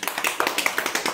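Children in a primary classroom clap in quick, even, fairly soft claps that keep a steady rhythm, with no talking.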